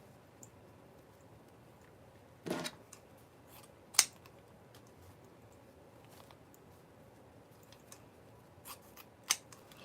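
Scissors cut deco mesh for a wreath base with a few sparse, sharp snips and clicks, close and quiet, spaced irregularly over a low background with no talking.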